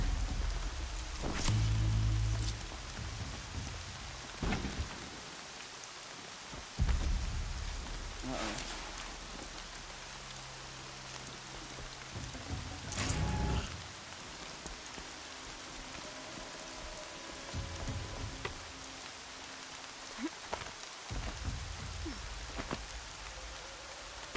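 Rain falls steadily in the video game Horizon: Zero Down, a constant hiss broken by a few louder thuds and short tonal game sounds.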